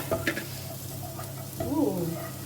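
Garlic sautéing in a pan with black pepper being added and stirred, giving a steady close sizzle with light stirring scrapes throughout.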